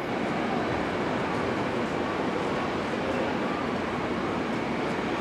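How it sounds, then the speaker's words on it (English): A Class 158 diesel train rolls into a station, a steady broad rumble and hiss holding at an even moderate level throughout with no voices. "Our train has arrived, but it stopped down there."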